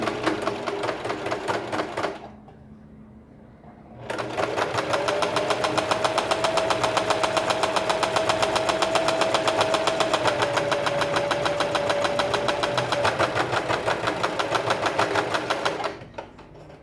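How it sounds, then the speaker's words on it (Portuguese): A sewing machine runs a seam along the edge of a fabric dish towel. A short whir gives way to a pause, then a long, steady stretch of rapid mechanical stitching rattles on close and loud for about twelve seconds. "nós vamos passar a costurinha aqui na lateral"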